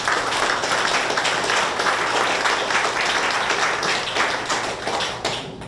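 Audience applause at an exhibition opening, a dense, continuous patter of many hands clapping, moderately loud and sustained throughout without talk.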